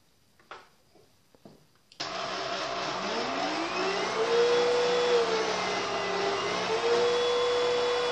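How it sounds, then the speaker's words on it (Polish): Hoover Rhapsody RA22HCG cordless upright vacuum cleaner on carpet in turbo mode at maximum power: a few handling clicks, then the motor starts and whines steadily and loudly, its pitch rising and wavering as it moves. "Najpierw przetestujemy odkurzanie na wykładzinie z wykorzystaniem trybu turbo i carpet, czyli maksymalna moc."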